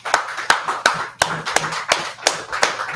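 A small group claps at a closing gathering of the Feast of Tabernacles, sharp irregular slaps repeating about every third of a second, close and fairly loud with no talking.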